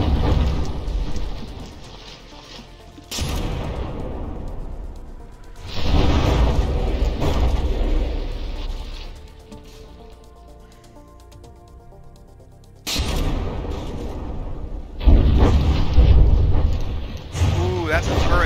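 A turret is blown apart on a warship in the naval combat game From the Depths, heard as loud, rumbling explosion bursts that come and go with quieter stretches between them.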